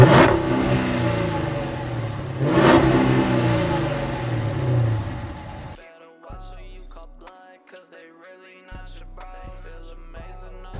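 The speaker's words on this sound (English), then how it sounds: "that's the engine, tick, tick, tick. And I'll give her a good rev." A 2012 Dodge Charger R/T with a 5.7 Hemi and a 392 cam, needing a cam and lifters, revs loudly up and down twice with a deep rumble before the engine sound drops away and quieter music-like tones follow.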